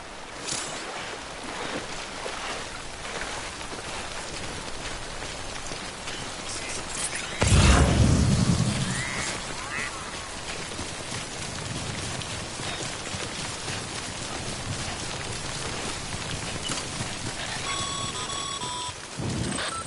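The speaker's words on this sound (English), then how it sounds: "prolonged exposure to timefall damages cargo containers. Don't stay out in the rain any longer than you have to." Steady rain hiss of timefall in the Death Stranding video game, an even wash of falling drops lasting throughout, with a brief louder low rumble near the middle and faint electronic tones toward the end.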